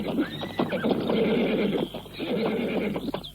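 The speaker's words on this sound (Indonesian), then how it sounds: "Kuda yang ditunggangi Pamungkas berjalan lagi." A ridden horse neighs loudly and at length, with soft hoof clops in the background.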